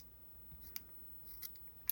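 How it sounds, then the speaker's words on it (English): Scissors snip through knitting yarn, a few quiet, crisp clicks spaced apart and close by, with no talking. "then I'm going to use my scissors to break the yarn"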